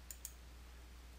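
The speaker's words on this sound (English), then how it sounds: "click the Next button to continue" Two quick, faint mouse clicks in close succession on the Next button in QuickBooks Desktop, followed by quiet room hum.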